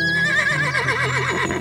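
A horse whinnies in one long, loud, wavering neigh that sways up and down in pitch, heard up close with no talking over it.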